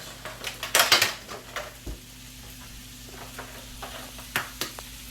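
Twelve extra large eggs cracked into a bowl for a Western omelet, heard as a quick run of sharp shell taps and clicks against the bowl followed by sparser knocks, close and dry with no talk.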